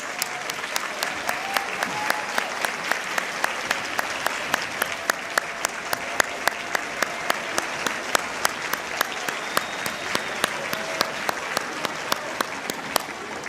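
Sustained audience applause at a teacher of the year celebration honoring educators, dense and steady with crisp individual claps standing out throughout, a fairly large crowd clapping without speech.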